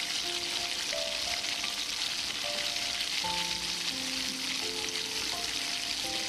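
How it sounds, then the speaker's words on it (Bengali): Fish-shaped pieces frying in hot mustard oil give a steady, loud, dense sizzle and crackle that holds evenly throughout, with faint tonal hums underneath and no talking. "একদিকে ভাজা হয়ে গেছে, এবার অপর দিকগুলো ভেজে নেব।"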